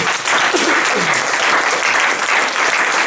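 A church congregation applauds together during a Sunday sermon, a loud dense burst of clapping that carries steadily for a few seconds.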